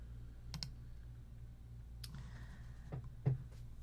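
Computer mouse clicking on a start button, a few faint, sharp, separate clicks spaced irregularly in a quiet room, with a soft low hum beneath.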